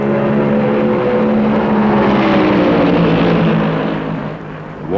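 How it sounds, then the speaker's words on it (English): Chevrolet stock car racing at Darlington Raceway in 1972, a loud close engine roar with a rising and falling pitch as cars pass deep in the third turn, fading near the end. "Bobby Allison's Chevy passes deep in the third turn and makes it look easy"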